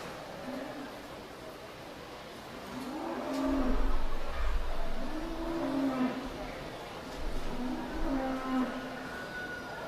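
Dairy goats in a livestock show ring at a youth fair, bleating in repeated drawn-out calls every couple of seconds over a steady crowded-hall hum, at moderate distance with low rumbles.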